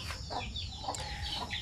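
Native chickens clucking, a few soft, fairly distant clucks and chirpy calls over low background noise, no talking.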